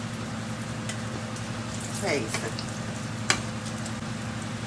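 Eggplant fritters (beguni) frying in oil give a steady crackling sizzle throughout, with a soft scrape near the middle and one brief sharp click later.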